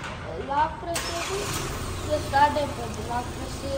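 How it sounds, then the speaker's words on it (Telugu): A car engine started by remote start turns over and settles into a low idle rumble partway through, while people talk close by. "ఈ రిమోట్ ఇంజిన్ స్టార్ట్ అవుతుందన్నమాట"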